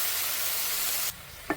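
Cleaned crab pieces stirred into frying masala for crab roast, a loud close sizzle and hiss that cuts off abruptly, followed by a brief clink of the spoon against the pan.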